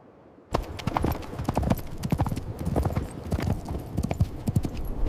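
Horse hooves clip-clop in a quick, steady rhythm close by, starting suddenly after a brief quiet moment.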